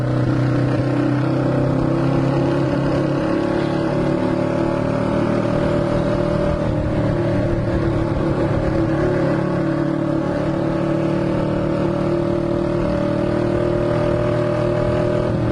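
A Honda CB twin motorcycle cruises along at a steady pace, its engine humming in an even drone under constant wind rush, with no speech.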